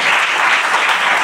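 A church congregation applauds during a sermon, a dense, loud burst of many hands clapping together with no speech over it.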